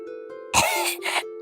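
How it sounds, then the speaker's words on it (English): A voice acts out a cough in a fairy-tale reading: a short throaty cough burst followed by a second smaller cough, close and clear against a faint tonal background. "she began to cough."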